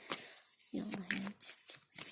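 Tarot cards being shuffled by hand, several quick riffling bursts with short gaps between them, close and crisp, under soft talking.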